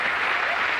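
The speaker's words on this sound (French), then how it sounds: "je vous demande d'applaudir cette belle équipe" Studio audience applause on a French TV comedy show, a brief, dense burst of clapping at steady loudness.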